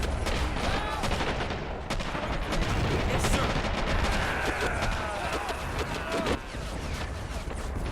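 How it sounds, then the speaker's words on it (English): Machine guns strafe during a gun run in Men of War: Assault Squad 2, set in the 1945 Iwo Jima invasion: dense, loud, continuous rattling bursts with cracking shots layered over a battle din for the whole stretch. "360 points for a gun run."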